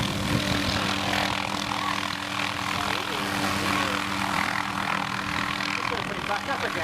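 A helicopter flying, a steady loud engine and rotor drone with a constant low hum throughout, talk over the sound.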